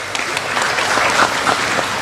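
An audience in a Jawa Barat gathering claps in a dense, steady burst of applause. The clapping is loud and fills the whole moment.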